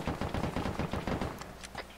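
Rapid bursts of video game machine gun fire in a dense, continuous volley, loud and close, thinning slightly toward the end with a few sharper shots.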